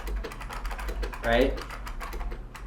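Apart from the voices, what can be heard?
typing on an IBM Model M keyboard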